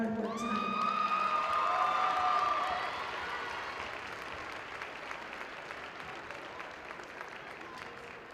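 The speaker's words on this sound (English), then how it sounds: "A warm round of applause for all their hard work tonight." Applause and cheering from a crowd at a post-game awards ceremony after a championship basketball game, loud at first with a few whoops, then thinning into softer scattered clapping and murmuring voices.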